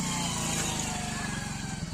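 A motorcycle carrying a load of custard apples rumbles past at a busy roadside fruit market, its engine a loud, close, steady chugging that dominates throughout without any talking.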